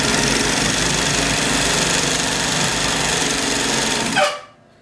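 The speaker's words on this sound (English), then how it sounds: "and then you hear the brake." A clutch-type sewing machine motor whirs steadily and loudly with a dense buzzing drone while stitching thick thread, then cuts off abruptly as the brake engages, leaving near silence.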